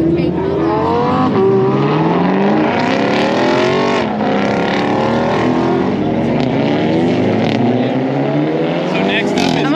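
A Hyundai Elantra TCR race car doing hot laps on a track, its engine loud and close, revving up and down through gear changes with a steady rising and falling roar and voices talking underneath.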